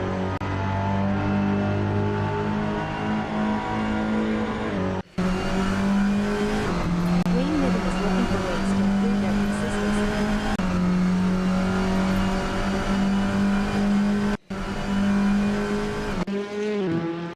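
Touring cars in the SimSpeed sim racing game roar past the start-finish line, engines screaming at high revs with shifting pitch and some tyre squeal, loud and continuous with two brief cuts.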